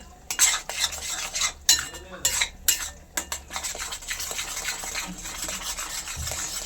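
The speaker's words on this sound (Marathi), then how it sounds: "तर हे असं आपल्याला छान फ्राय करून घ्यायचंय." A metal spatula scrapes and clanks against a pan while egg bhurji fries, with rhythmic bursts of stirring strokes, close and fairly loud, over a faint background hiss.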